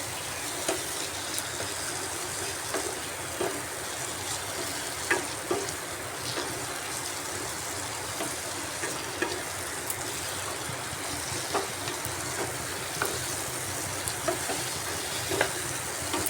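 Spice paste with potatoes and tomato fries in a pan, producing a dense, constant sizzle close by, punctuated by regular light scraping clicks of stirring.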